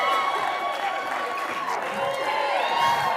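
Broad, continuous crowd cheering and clapping fill a talk venue, a close, even roar of many voices with scattered whoops that keeps going without a break.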